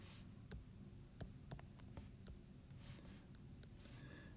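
A pen writes out a math formula for an arithmetic sequence: faint, quiet scratching strokes broken by scattered light taps and clicks, with no other sound around it.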